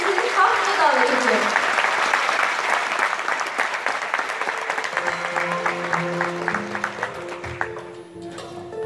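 An audience at a hometown gathering event claps warmly, steady dense applause rolling over the start of a traditional folk music ensemble tune with kemane and flute tones emerging beneath.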